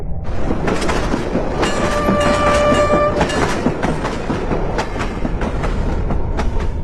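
A passenger train bound for Khun Tan departs a station. Loud, continuous rolling rumble and clatter of rail cars dominate, and a sustained horn blast sounds for about a second and a half early on.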